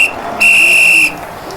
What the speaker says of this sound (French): 3 coups de sifflet